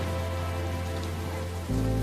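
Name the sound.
rain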